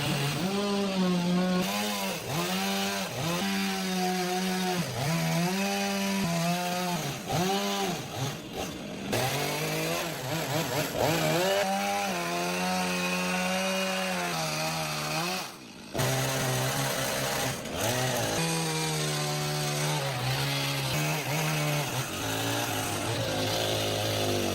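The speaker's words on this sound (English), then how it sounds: "The excess logs sticking out around the window are being trimmed with a chainsaw to make them even" A chainsaw trims excess log ends around a window frame on a log shelter, loud close revving that rises and falls with each cut, with a few brief dips and pauses between passes, no talking.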